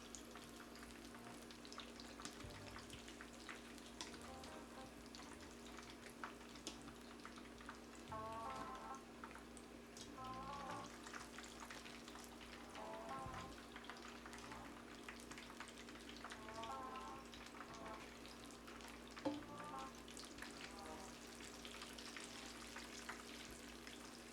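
Soft, steady sizzling of ackee and saltfish stuffed dumplings frying in oil, with a constant low hum and a few faint clatters in the background.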